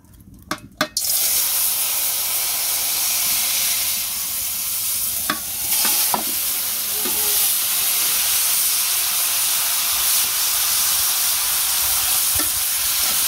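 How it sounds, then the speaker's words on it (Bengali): Vegetables hit hot oil with cumin seeds, a brief clatter followed by a loud, steady, close hiss of frying that runs throughout with occasional stirring clicks. "তেল দিয়ে দিছি, জিরে দিয়ে দিছি, এখন দিয়ে দিব"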